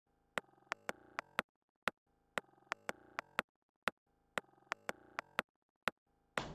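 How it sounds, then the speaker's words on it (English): Knocking that has been pitched down and reversed, heard as three repeated phrases of swelling tones that end in sharp clicks, separated by short gaps, fairly quiet with a brief noise burst at the end. "this sound that you're about to hear is me knocking, but it's also pitched down and reversed"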